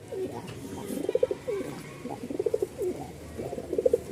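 A male giribaz pigeon coos close by in a series of rhythmic, throaty bursts repeated over several seconds, with faint background noise.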